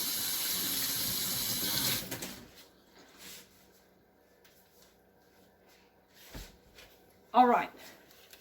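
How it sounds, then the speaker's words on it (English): Water from a running kitchen tap splashes over hands being rinsed in a sink, loud and steady for about two seconds before shutting off, followed by quiet and a brief voice. "Let me rinse my hands off"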